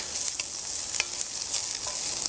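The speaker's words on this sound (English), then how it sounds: "Gonna give it a stir." Diced onion being stirred in a hot pan for smothered green beans, a steady close sizzle with scraping spoon strokes and small crackles running throughout, no talking.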